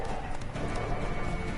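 Horse hooves beat rapidly in a galloping clip-clop rhythm while riding in the video game The Witcher 3, a steady, close, continuous pounding with no pauses.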